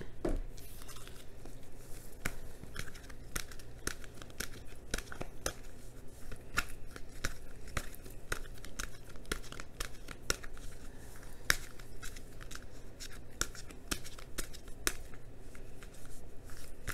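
Oracle cards are shuffled and drawn close up: a long run of rapid, papery flicks and riffles with dense irregular clicks and rustles, no talk.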